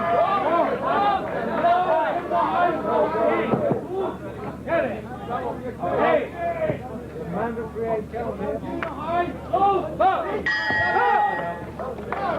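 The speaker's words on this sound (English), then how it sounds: "Bell coming to Buston's rescue at the end of round 3" A boxing ring bell clangs to end round 3 of a 1992 professional bout, a bright metallic ding near the end that sounds over crowd hubbub and ongoing commentary.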